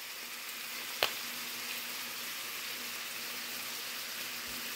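Burger patties frying in a pan with garlic butter, a faint, even sizzle with one sharp tap near the start, quiet and steady throughout, no speech.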